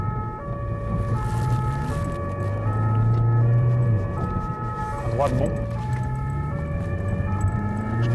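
A Geneva BAC police car's siren wails loudly and continuously while the car drives through the city, with repeated rising and falling tones over road noise, and people briefly talk inside the car.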